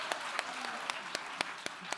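Audience claps for a guest at a panel event on AI transforming industries in Africa, with sparse, separate claps landing at an irregular rhythm, fairly quiet and without voices.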